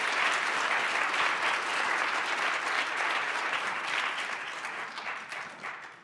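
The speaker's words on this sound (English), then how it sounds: "Can we have a round of applause to the panelists" An audience at a civic space panel discussion applauds the panelists, a dense, steady clapping that fills the room and slowly tapers off toward the end.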